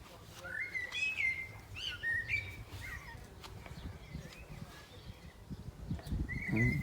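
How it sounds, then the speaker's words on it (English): A blackbird sings a sequence of fluting, warbling phrases with short pauses between them, moderately close, in a garden, over quiet outdoor background and a faint voice. "this is Blackbirds singing away up there"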